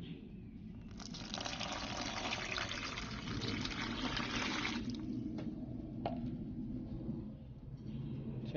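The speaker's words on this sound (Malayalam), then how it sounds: "ശേഷം അതിലേക്കൊരു അര ലിറ്റർ വെള്ളമാണ് ഒഴിക്കേണ്ടത്." Half a litre of water pours steadily into a bucket for a homemade dish-wash liquid, a close, broad gushing stream that runs for several seconds and then eases into quieter trickling and splashing.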